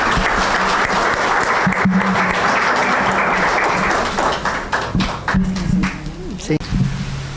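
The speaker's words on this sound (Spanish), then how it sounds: "Recibamos con un gran aplauso a nuestro invitado, el doctor Alfredo Alcántar Gutiérrez" A lecture audience at the Universidad de Guadalajara gives a warm round of applause to welcome a guest speaker, with dense clapping throughout and some voices mixed in, thinning toward the end.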